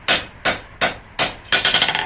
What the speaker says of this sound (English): you set that side down and hammer it on the other side and give it a bump